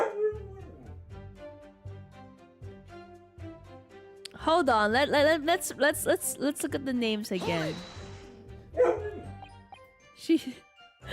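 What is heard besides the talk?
angry dog barking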